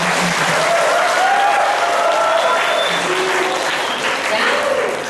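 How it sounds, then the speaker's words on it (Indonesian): Audience applause from a room of schoolchildren, a dense, steady clatter of many hands clapping close by for about five seconds, with a few voices calling out over it. "Boleh tepuk tangannya deh."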